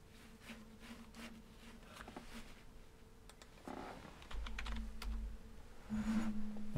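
Computer keyboard typing, quick soft clacks in irregular bursts, close and fairly quiet over a low hum, with a few heavier thumps toward the end.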